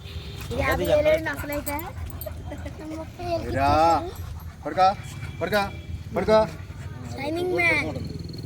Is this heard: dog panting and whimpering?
yes